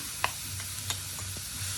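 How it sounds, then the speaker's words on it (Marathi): Grated carrot stirred in hot ghee in a kadhai for carrot halwa, a faint steady sizzle with a few soft scraping stirs, no talk. "कढईमध्ये अगोदर एक चमचा तूप घातले तुपामध्ये आपण हा किस घालायचा आहे सगळा"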